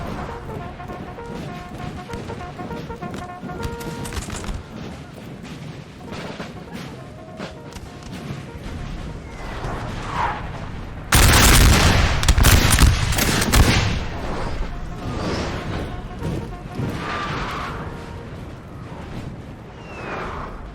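Napoleonic-era artillery and musket fire in a Total War battle, with scattered crackling volleys and booms through the first half, then a loud, dense burst of cannon fire before it settles back into ongoing gunfire.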